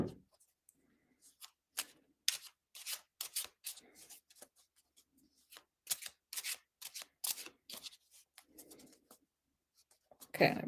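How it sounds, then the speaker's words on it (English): Tarot cards shuffled by hand in a series of quick riffling and sliding bursts, soft and close, with short pauses between passes and no talking. "I can start shuffling"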